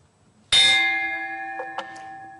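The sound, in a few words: club bell rung to open the forum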